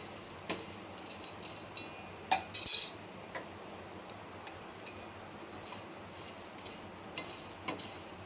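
A utensil stirring whole cumin seeds dry-roasting in a pan over low heat for homemade garam masala, giving faint, scattered clinks and light scrapes against the metal, with a brief louder rattle partway through.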